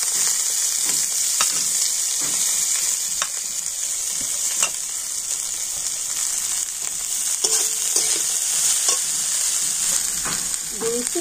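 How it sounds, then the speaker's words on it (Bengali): Kalmi greens and two green chillies sizzle steadily in a wok of hot oil with cumin, a constant bright frying hiss with occasional pops and stirring scrapes, close and continuous. "আর এখন আমি কড়াই শাক দিয়ে দেব, আর দিয়ে দিচ্ছি দুটো কাঁচা লঙ্কা।"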